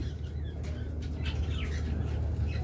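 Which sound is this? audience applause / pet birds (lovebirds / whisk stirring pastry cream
pet birds (lovebirds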